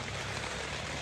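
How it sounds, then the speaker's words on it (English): Steady, heavy rain pours down during a thunderstorm in Kentucky, making a dense, even hiss of drops on surfaces that holds constant from start to finish with no voices. "it's still pouring and it's still thunder and lightning"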